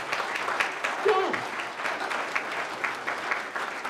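An audience at a local genealogy talk claps in a brief, moderate round, with a voice briefly heard partway through.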